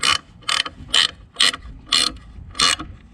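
A ratchet tightens nuts under a 6x6 Perentie ambulance during a backyard steering alignment, sounding six loud, evenly spaced bursts of rapid clicking at close range, with no talk.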